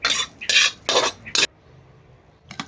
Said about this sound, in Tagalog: Maggisa ng bawang hanggang pumula. Isunod ang kanin. Halu-haluin.